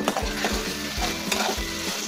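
A spoon stirs through sizzling homemade garam masala in a pan, rhythmic scraping strokes repeating about every quarter second over a continuous frying hiss.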